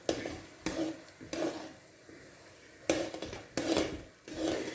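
Semolina poured gradually into boiling water in a pot and stirred for upma, giving repeated scraping, rasping strokes in bursts with short pauses between them, close and clear.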